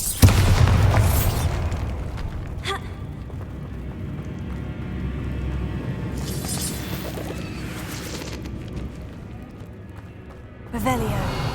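Blasting-spell explosions in the video game Hogwarts Legacy, a loud boom at the start followed by rumbling debris and a few sharp bursts later, mixed with game sounds and a voice.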